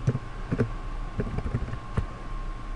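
Soft, irregular clicks of typing on a computer keyboard, scattered keystrokes over a low steady hum with no talking.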